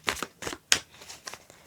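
A small oracle card deck is shuffled by hand in a quiet indoor setting, giving about six or seven soft, crisp riffling bursts in an uneven rhythm, close to the microphone with no talking.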